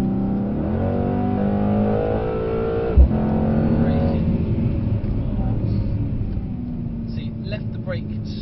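A Mercedes-AMG C63 W205 accelerating hard around the Brooklands circuit, its engine droning and climbing steadily in pitch from close inside the cabin, with a brief thump partway through and someone speaking continuously over it.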